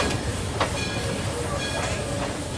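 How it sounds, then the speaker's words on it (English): Miniature all-wheel drive locomotive with metal gears on each wheel pulling a passenger ride train, a steady loud rumble with rail clatter and occasional hissing, heard close and continuous. "the metal gears on each of the wheels, giving you an all-wheel drive locomotive"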